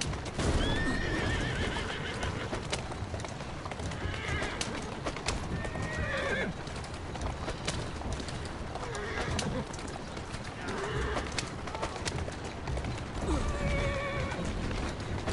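Horses neigh and whinny repeatedly over steady clip-clopping hooves in the Assassin's Creed Syndicate video game, a dense continuous mix with several whinnies rising above the hoofbeats throughout.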